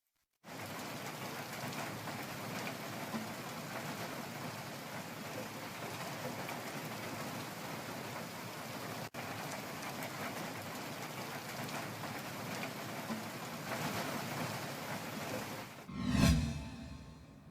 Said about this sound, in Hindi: नैनीताल में मौसम विभाग की सटीक भविष्यवाणी के चलते मूसलाधार बारिश तेज हवाओं के साथ हुई है